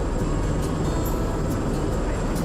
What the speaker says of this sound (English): This is a Bell 407 helicopter, the quietest helicopter of its class in the world.